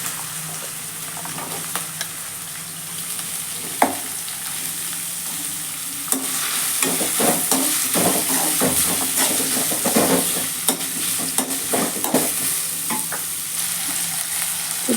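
Sliced onions frying for beetroot rice, a steady close sizzle broken by scraping, clinking stirs that grow busier partway through, with no talking.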